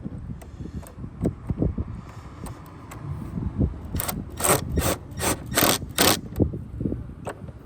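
A serpentine belt on a Dodge Challenger is tightened: a run of ratcheting clicks and mechanical rasping, irregular at first, then louder, faster bursts of ratchet strokes near the end, close and fairly loud.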